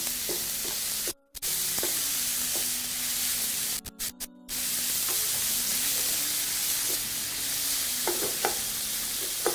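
Minced meat browning in a hot pan, sizzling and hissing steadily with occasional stirring scrapes and brief breaks, close and fairly loud with no talking.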